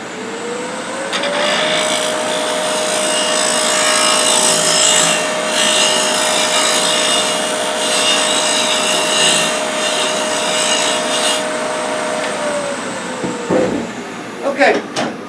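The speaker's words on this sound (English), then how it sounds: "I'm going to hit it again with the spindle roughing gouge" A spindle roughing gouge cuts into wood spinning on a lathe, making a loud, continuous rasping scrape over the steady hum of the motor. The scrape holds for about twelve seconds before it winds down.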